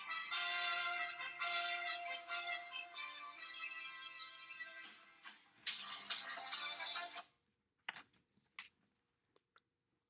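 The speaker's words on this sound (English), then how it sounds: "My phone was ringing." A mobile phone rings with a melodic electronic ringtone that repeats for several seconds and then cuts off. A few faint clicks and taps follow in otherwise quiet surroundings.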